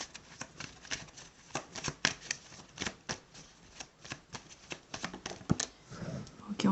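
Tarot cards are shuffled by hand close up, a rapid series of crisp riffling flicks and taps in an irregular rhythm, fairly quiet, with no talking over them.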